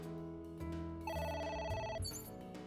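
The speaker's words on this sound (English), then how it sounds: "It's ringing again." A telephone in the video game AI: The Somnium Files rings with a quick electronic bell-like tone pattern, faint and repeating in short bursts over a low musical backing.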